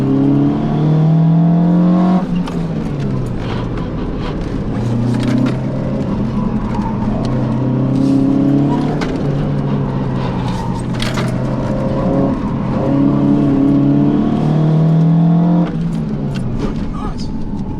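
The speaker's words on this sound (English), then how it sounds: "Oh, I can hear those tyres scrubbing." Toyota MR2 driven hard around a race track, tyres scrubbing under load over a steady engine drone that rises and falls with revs, with voices talking over the cabin noise.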